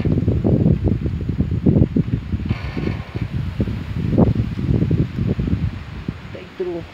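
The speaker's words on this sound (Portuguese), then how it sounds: "E tá chegando com muitos ventos fortes nesse exato momento" Strong wind gusts in heavy, uneven bursts as a rainstorm arrives in Serrita, buffeting loudly and roughly throughout.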